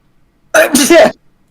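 A single quick, loud sneeze close to the microphone during a tabletop role-playing game session, short and sharp against near silence.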